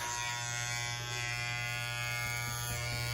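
Electric hair clippers fitted with a number 1 guard cut a man's hair above the ears, a steady close buzzing drone that stays even throughout.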